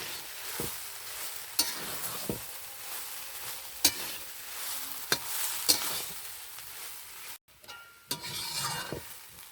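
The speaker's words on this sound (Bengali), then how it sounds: "রোস্ট করে রাখা গরম মশলাটা আমি ছড়িয়ে দিলাম। ভালো করে মিশিয়ে নিচ্ছি।" Roasted garam masala gets stirred into a carrot and prawn curry in a pan, with a soft continuous sizzle beneath and sharp intermittent scrapes and clicks of the spatula against the pan, fairly quiet and close.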